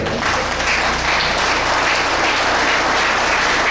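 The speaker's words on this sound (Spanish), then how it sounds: "Denle un aplauso fuerte al Señor." A church congregation applauds loudly and steadily during a Thursday worship service, a dense, even wash of many hands clapping that fills the whole moment with no talk over it.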